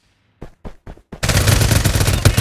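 Gunfire in the video game Farlight 84: four short separate bursts, then a loud, continuous rapid-fire stream of shots close up, with no talking.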